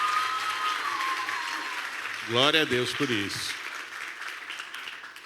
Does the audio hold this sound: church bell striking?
no